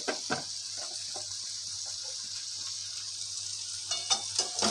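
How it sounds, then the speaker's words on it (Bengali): Chopped green chilies and spices sauté in a pan for a chicken mughlai paratha filling: a soft, quiet sizzle with a few sharp scraping taps of stirring near the start and end. "এইগুলো সব দিয়ে আমি সুন্দর করে 2 মিনিট কষিয়ে নেব"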